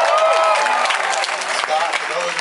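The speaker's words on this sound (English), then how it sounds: "Yes, you get an applause" An audience at a live talk applauds in a brief burst of clapping, loudest at the start and tapering slightly, with a voice faintly audible over it.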